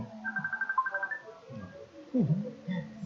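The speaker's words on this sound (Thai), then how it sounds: "มีสายเข้ามา" A telephone rings with an incoming call, giving a short run of steady electronic tones at a moderate level, followed by faint shuffling and handling sounds.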